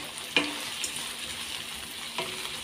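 Vegetables and baggy beans with soy sauce sizzle in a pan during a chicken stir fry, a soft steady frying hiss broken by two brief stirring scrapes.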